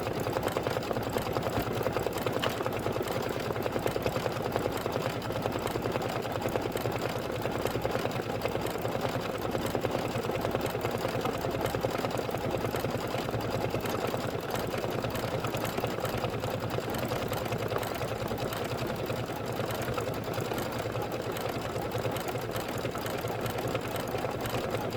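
An embroidery machine stitches a pillow design for a banana split block, running with a steady, continuous mechanical whir and rapid needle chatter throughout, close and fairly loud with no talking.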